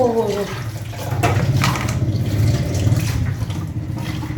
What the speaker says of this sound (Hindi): ओहो, इतना गर्म पानी डायरेक्ट दोज़ख से